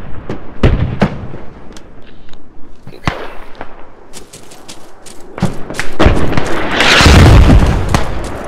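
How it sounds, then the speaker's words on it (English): Mortar explosions in the video game Squad: a string of heavy thumps and booms, some sharp and close, others duller and distant, with a long rumbling blast rolling in near the end. "How are those mortars looking?"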